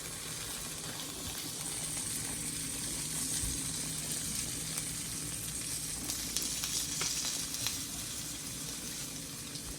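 Salmon seasoned with garlic salt and lemon pepper sizzles steadily in a pan while being sautéed, a continuous close frying hiss with occasional pops and faint stirring, no voices.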